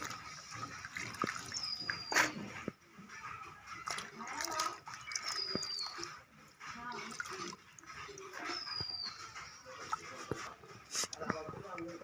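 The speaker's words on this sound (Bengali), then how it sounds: "সবজিগুলো কাটা হয়ে গেছে, এবার ধুয়ে নেব।" Tap water runs and splashes while freshly cut spinach is washed in a home kitchen, a steady trickle with clattering handling, under someone talking.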